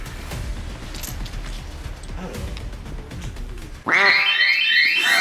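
Loud, shrill electronic motion-triggered deterrent alarm bursts in abruptly after several seconds of rustling and muffled movement, blaring steadily at close range, in Vilnius, Lithuania.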